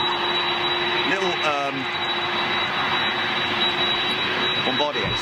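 A Bombardier CRJ jet airliner inbound to Manchester Airport, a steady distant jet engine roar heard under a voice talking throughout.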